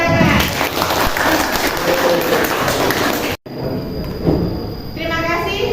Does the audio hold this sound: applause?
yes